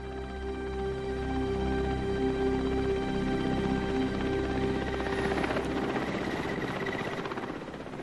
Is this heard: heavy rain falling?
no